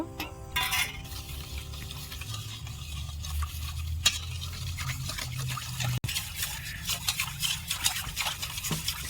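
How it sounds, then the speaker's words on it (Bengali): Milk, sugar and oil being stirred together in a bowl for an eggless sponge cake, giving a steady, wet scraping and sloshing with soft clinks, close by, with no talk. "এক কাপ দুধ দিয়েছি দিয়ে আমি চিনি তেল দুধ একসাথে মিশিয়ে নিয়েছি"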